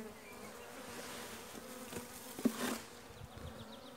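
Honey bees hum inside a hive weakened after twelve days of rain and a shortage of pollen and nectar, a soft, steady, fairly faint buzzing with a few louder nearby flights.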